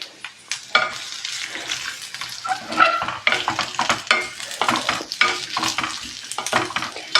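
Small pieces of coconut fry in oil with a busy, crackling sizzle and frequent clattering stirs, loud and close, no speech.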